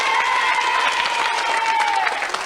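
Audience applause on a French TV children's show, Disney Club on TF1 in 1991, a steady dense clapping crowd throughout with a host's voice carrying over it.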